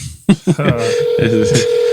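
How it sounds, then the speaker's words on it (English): A phone call is dialled: a few short keypad tones, then a steady ringback tone that runs on with faint pulses, loud and close, with a voice briefly heard at the start. "Let me call this guy."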